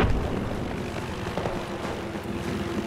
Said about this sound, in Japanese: ヘリがいる。